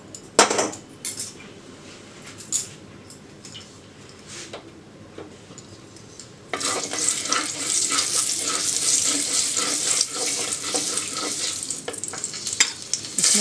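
Leftover paneer-frying oil heats in a clay kadai, faint clinks and scrapes giving way midway to a loud, steady, close crackling sizzle that holds to the end.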